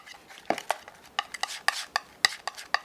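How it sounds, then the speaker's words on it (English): Acrylic paint being mixed, white worked into green with a palette knife on a palette, giving irregular scraping and tapping strokes, close and fairly crisp, with no talking. "Let's mix the white to this green."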